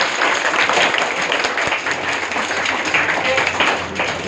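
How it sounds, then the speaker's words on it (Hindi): Loud, dense applause from a seminar audience welcoming a guest speaker, many hands clapping steadily and close for several seconds with no speech over it. "मैं आपकी जोरदार तालियों के साथ आवाज देना चाहूंगा श्रीमान जगदीश जी साहब को"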